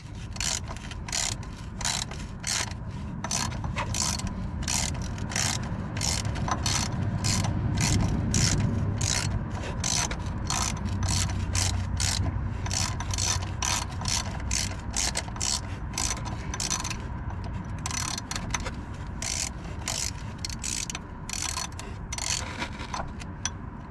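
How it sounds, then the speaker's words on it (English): Socket ratchet backing out three 12mm bolts from the thermostat housing on a 2012 Nissan Titan SV, a long run of rapid, even clicking pawl strokes heard up close over a low hum, no voices. "I'm just removing these 3 12mm bolts from this thermostat housing."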